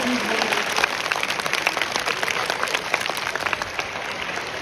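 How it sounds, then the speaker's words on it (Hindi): Audience at a school Road Safety Month celebration breaks into sustained, dense applause, steady clapping filling the hall for several seconds. "बहुत ताली बजाओ सलमान जी के लिए।"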